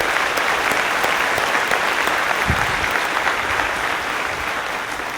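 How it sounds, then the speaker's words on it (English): An audience at a 2019 Archbishop Carroll graduation commencement applauds a bishop with steady, dense clapping throughout a hall, holding an even level from start to finish. "So how about a round of applause for the Bishop?"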